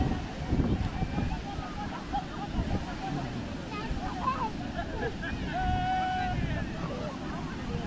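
Water rushes steadily at the Thaiyur mini waterfall, a broad, even wash heard at a moderate distance under wind buffeting and the babble of a crowd of bathers, with someone talking over it.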